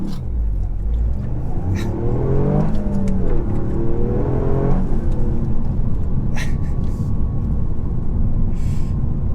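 A Toyota GR Yaris with a 1.6-litre turbocharged three-cylinder engine and all-wheel drive accelerates hard, the engine note climbing through the revs with a brief drop between gears, loud and close with whirring turbo and road rumble.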